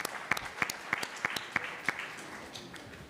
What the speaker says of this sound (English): May we give a round of applause for our presenter